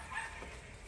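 A small puppy gives faint, brief yips and a whimper, quiet and close against a low background.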